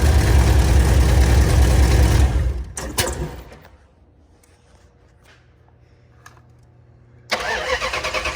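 A car engine cranks loudly for about two seconds, catches briefly, then goes quiet before cranking hard again, all close and loud with no talking.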